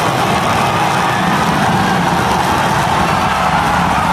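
SpaceX Starship Super Heavy booster engines, three still firing during the landing burn as the booster comes in for a tower catch, give a steady, loud, dense roar with no voices.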